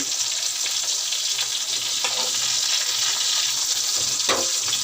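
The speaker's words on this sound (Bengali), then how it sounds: "পটল আর আলু ভাজা হয়ে গেছে" Pointed gourd and potato pieces fry in a pan with a constant close sizzle, broken by a couple of brief stirring scrapes.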